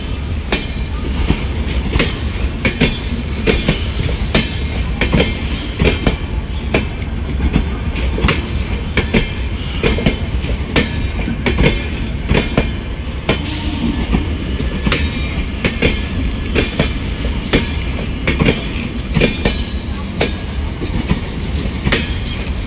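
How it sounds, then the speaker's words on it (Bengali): Bharat Gaurav tourist special passenger train with sleeper coaches and a pantry car running on rails, a continuous loud rumble with rhythmic clickety-clack of wheels over rail joints and a brief squeal, close by. "আর এই ট্রেনটি এলো কিন্তু খাতিপুরা থেকে।"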